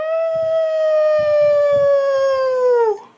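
A single sustained wolf howl used as a sound effect, loud and close, holding one long pitch that slides slightly downward before fading out, with soft huffing breaths or growls underneath.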